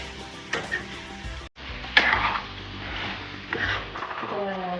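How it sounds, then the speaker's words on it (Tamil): Chicken for biryani sautéing in a pan over a gas stove gives a steady close sizzle, broken by scraping stirs and a brief clatter, with a short gap partway through. "கேஸுக்குள்ளே வச்சு நல்லா வதக்கினா போதும்"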